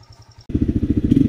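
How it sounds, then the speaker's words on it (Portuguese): A motorcycle starting up: a brief rhythmic cranking, then the engine catches and settles into a loud, close, pulsing idle that firms up toward the end. "Eu vou ligar a moto e vou virar."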